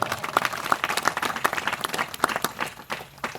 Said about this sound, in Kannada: ಚಪ್ಪಾಳೆ ತಟ್ಟಬೇಕು ಜೋರಾಗಿ